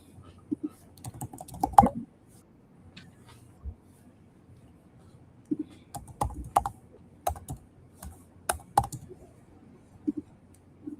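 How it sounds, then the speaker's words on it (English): Bursts of clacky key presses on a loud Mac keyboard, irregular runs of taps with pauses between, close and fairly prominent, with faint background noise and no clear talk. "Such a loud keyboard. It's Mac. It's Mac keyboard."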